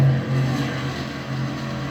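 Race car engines at speed on the Charlotte track, a loud, steady, close engine drone with a low tonal hum and no talking.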